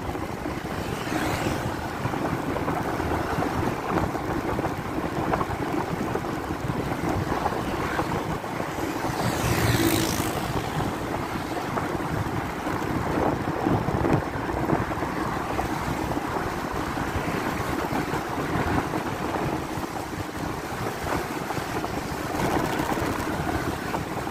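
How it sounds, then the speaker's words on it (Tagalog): A dense, steady roar of heavy rain mixed with gusty wind noise, loud and continuous throughout, with no talking. "Lumakas yung ulan dito guys oh."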